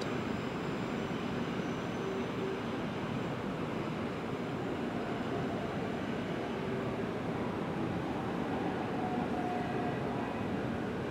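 A Class 375 electric train bound for Charing Cross approaches London Waterloo East, heard as a faint, steady, broad rumble and hiss from a distance that holds at a constant level throughout with no voices.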